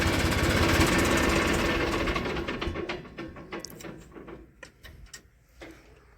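A parked farm tractor's engine runs loud and steady in the shade for about two seconds, then dies away into sparse rattles and clicks.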